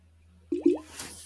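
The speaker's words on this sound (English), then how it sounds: "It was just the water bottle." A plastic water bottle gives two quick squishy, gurgling squeezes close by, followed by a soft hissing wash of air, with a low steady hum underneath.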